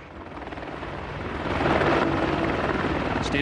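Rotor chop and turbine roar from a U.S. Army Apache AH-64A attack helicopter flying, growing louder as it draws nearer over a few seconds, steady rhythmic beating with no voices.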